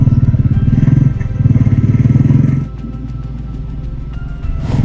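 A motorcycle engine roars loudly and close while riding on a road toward Shivanasamudra, with a steady pulsing throb that drops to a lower rumble midway before rising again.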